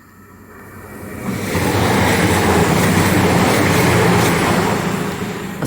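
Four-coach passenger train passing a Sunday station at Starcross, rumbling in from quiet and building into a loud, steady roar of wheels and carriages before beginning to fade.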